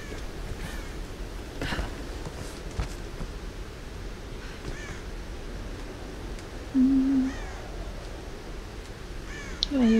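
Crows caw in a Tomb Raider game setting, several hoarse calls scattered across an outdoor ambience of wind and low rumble, with a brief tonal game sound near the end and no speech.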